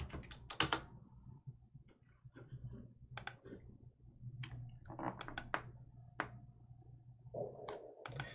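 Keys clatter on a computer keyboard as a command is typed at a command prompt, a run of quick, uneven clicks in short bursts, close and fairly quiet, with no one speaking.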